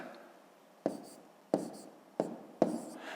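Pen on paper while long division is written out by hand for a fifth-grade math exercise, with four quiet, close, evenly spaced scratchy strokes over a faint background hiss.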